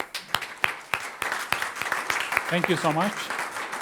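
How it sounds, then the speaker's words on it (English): A handful of sparse, evenly spaced hand claps from a seminar audience for a panel of experts on predictive genomics, fading under a voice that then speaks over them. "I think our experts deserved big applause."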